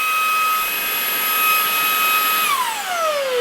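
A Shark Wandvac handheld vacuum runs with a loud, steady high-pitched whine and rushing air blowing out, close up, then the motor pitch glides downward as it winds down.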